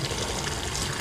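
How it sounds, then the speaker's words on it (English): Water runs steadily from a tap, a constant close hiss and splash with no pauses. "faucet to rinse the hose of the wax out"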